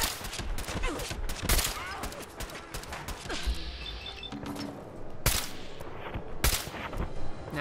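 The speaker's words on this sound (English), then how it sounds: "Now let's test out our Magnum Revolver rifle" Rapid gunfire from a Magnum revolver rifle with .50 caliber conversion in Fallout 4, a series of sharp cracking shots spaced irregularly over several seconds amid softer game sounds, with a voice speaking between them.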